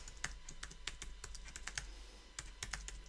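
Quick keystrokes clatter on a computer keyboard, a close, quiet run of irregular clicks and taps over about three seconds with no voices.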